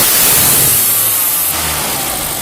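A BMW F30 328i with an added blow-off valve revs loudly up close, the engine roar holding high and then easing off over a couple of seconds.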